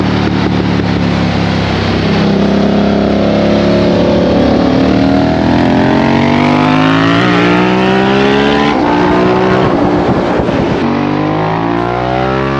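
A Harley-Davidson Pan America motorcycle fitted with a Toast cat-back exhaust pipe revs hard and loud up close, its raw engine note climbing and falling through several sweeping throttle blips.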